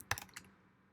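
A brief burst of computer keyboard typing, a few quick close keystrokes clustered at the start and fading into quiet room tone.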